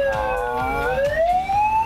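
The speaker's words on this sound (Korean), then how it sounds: "이런 식으로 버튼을 누를 때 소리가 이런 식으로 바뀝니다" A fire truck siren sweeps upward in pitch as its tone is switched by a button, loud and close, with a rapid rhythmic pulsing underneath, no voices.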